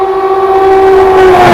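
Loud, sustained horn tone from an express train overtaking on a parallel track, held steady under a rising rush of rolling noise.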